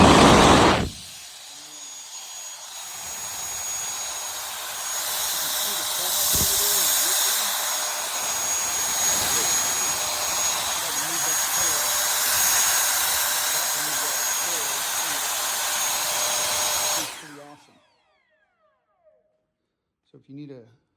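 A cordless JUFINX leaf blower and compressed-air duster with a 64mm motor whines steadily at close range for about sixteen seconds, holding a high, hissing airflow tone before it cuts off, leaving near silence with a faint voice murmuring.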